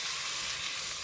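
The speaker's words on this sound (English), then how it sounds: "now that it's heated, we'll add in our red pepper and onion. We'll saute this for about 3 minutes." Red pepper and onion sautéing in a hot pan, a steady close sizzle and hiss with no pauses and no talk.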